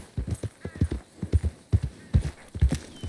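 Horse hooves clip-clop at a steady walking pace in Red Dead Redemption 2, a run of crisp paired thuds on a dirt path, close and clear with a faint ambient backdrop.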